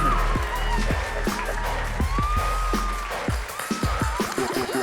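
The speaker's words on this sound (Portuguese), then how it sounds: "uma grande salva de palmas para o André Dionísio." Studio audience applauding to welcome a guest onto a television show set, a steady wash of clapping with some cheering, moderately loud throughout and mixed with music and other sounds.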